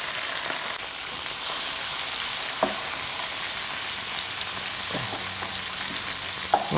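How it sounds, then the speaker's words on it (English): Seasoned onions frying in a little leftover game sausage fat, a steady close sizzle with a few light utensil taps and scrapes; no voices. "Now into this little bit of fat that we've got left over, we put the onions that we've already seasoned."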